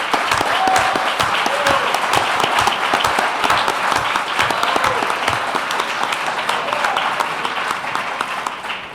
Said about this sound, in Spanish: aplausos para Juan